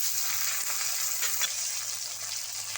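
Chopped tomato hits hot oil already holding torn dried red chillies and whole cumin, giving a loud, steady, close sizzle that holds without a break.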